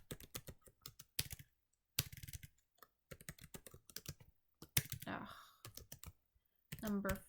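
Bursts of rapid clicking keystrokes on a computer keyboard while filling in a Google Docs document, with pauses between runs and a few short breathy sounds, close and fairly quiet.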